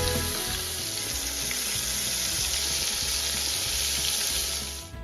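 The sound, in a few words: deer steak frying in hot oil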